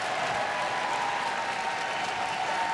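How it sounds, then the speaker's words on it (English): A sellout crowd at the Westminster Kennel Club Terrier Group judging applauds a West Highland White Terrier, with dense, steady clapping and cheering filling the hall throughout. "This West Highland White Terrier getting a good reaction from the crowd"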